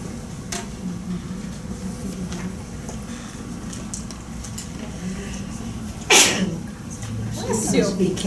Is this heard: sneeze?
yes